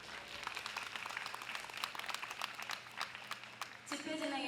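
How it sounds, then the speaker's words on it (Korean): Crowd applause at a national teachers' rally in Korea, a dense steady patter of many hands clapping at moderate distance, ending with a brief louder sound at the close. "오늘의 이 자리를 마련해 주신 교환단체 대표자님들께 다시 한번 박수 부탁드립니다."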